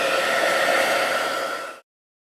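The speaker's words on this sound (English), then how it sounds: "So if you want to speed up the process of drying, just use a heat tool." A heat tool blows steadily on fresh white craft ink, a loud, even airy roar held close for nearly two seconds before it cuts off abruptly into silence.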